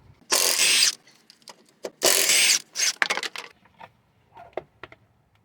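A hand ratchet spins out a 10mm bolt from the apron under a Toyota Sienna, two long rapid clicking bursts followed by shorter clicks and taps that fade into sparse knocks, close and alone.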